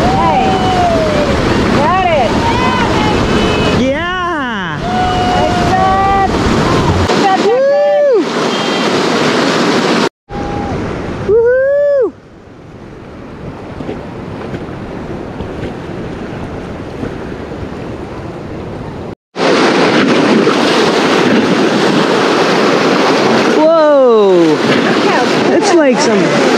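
Whitewater rapids on the Main Salmon River roar as a continuous loud rushing wash, mixed with heavy wind buffeting on the microphone and occasional shouting voices, with one stretch dropping quieter before the surge returns.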